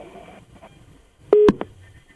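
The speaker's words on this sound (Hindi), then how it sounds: "उनका फोन कट गया है" A telephone line tone after a call disconnects during a news broadcast, a few short loud beeps close to the ear following a faint murmur.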